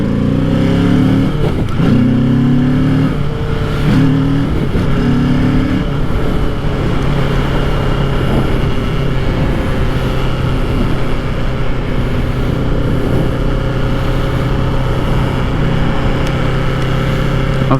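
A 2025 Kawasaki Ninja 650 in dark metallic green roars along under hard acceleration, its engine note climbing through several rising revs with gear changes, loud and close over steady wind rush.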